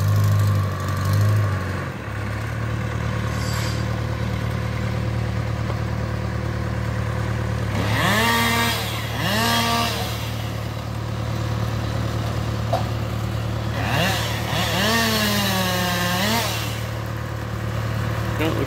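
A Husqvarna chainsaw drones steadily at a wood yard during tree trimming. Its engine revs up and falls back in pitch a few times, loud and continuous.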